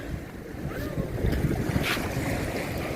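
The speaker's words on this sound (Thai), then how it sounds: "เห็นบรรยากาศดีดีลมแรงอากาศเย็นด้วยวันนี้" Strong wind at the seaside at Wonnapha Beach in Bang Saen, a steady roaring gust buffeting the microphone over the low wash of waves.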